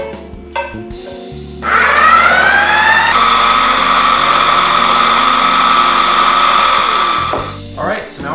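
A food processor whirs loudly and steadily for several seconds, blending mayo, olive oil and spicy sauce ingredients. A high motor whine climbs in pitch, then holds at an even drone before cutting off.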